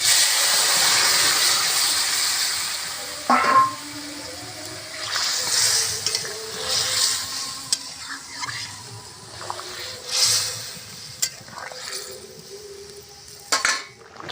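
Broth for a Bengali fish and fish roe curry with mixed vegetables is poured into a pan of fried spices, giving a steady wash of hiss and bubbling with scattered metallic clinks of pan and utensils.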